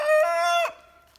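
A rooster crows once in a chicken coop, a loud, close, drawn-out call of about half a second that drops off sharply, followed by a quiet tail.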